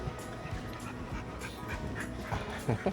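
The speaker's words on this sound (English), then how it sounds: "Can I pet your dog?" A six-month-old female dog pants close by in quick, breathy bursts that repeat through the whole clip, with a few soft whines near the end.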